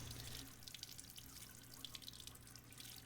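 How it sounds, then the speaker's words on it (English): A water tap runs steadily in Resident Evil Village, a continuous faint splashing hiss with light dripping flecks over a low ambient game hum. "the fact that he turned that water on cold"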